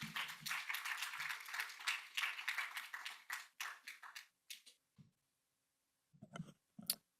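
Audience clapping at an Islamic finance conference, a dense burst of applause that thins into scattered claps and fades within about five seconds, then a few isolated taps and faint shuffles.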